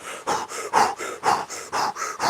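A person breathes in a fast panting style, pulling air all the way in and all the way out, about ten quick, even, close breaths with no speech.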